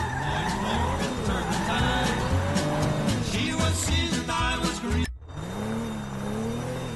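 A car driven in a video game, the engine revving and changing pitch with tire squeals, loud and continuous, with a sharp cut partway through before the engine carries on.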